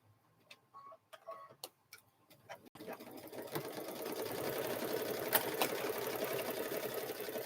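A sewing machine back stitches a quilted Grinch handbag, a few scattered clicks and taps at first, then a steady close rapid ticking whir that runs to the end.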